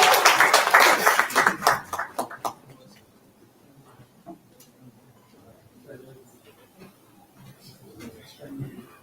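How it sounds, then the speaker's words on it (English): Conference audience clapping for a session moderator at an industry-institution summit, loud and dense for the first two and a half seconds, then trailing off into scattered faint claps and quiet room noise. "A big round of applause, please, sir."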